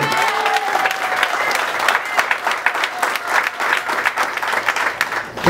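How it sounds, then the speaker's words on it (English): An audience at a press conference breaks into sustained applause, steady clapping throughout with some crowd noise mixed in. "Let's give Andy a round of applause."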